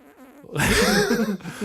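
A voice imitates a fart: one raspy, buzzing blast lasting about a second, loud and close, with quieter breathy sounds before and after.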